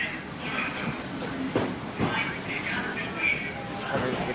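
Steady rumble of a Victoria line train in motion, with rail clatter and occasional clunks, while people talk over it.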